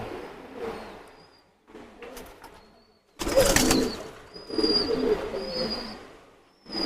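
Teddy pigeons cooing close by in several soft, throaty bursts, with a louder fluttering or rustling burst in the middle and faint high chirps around them.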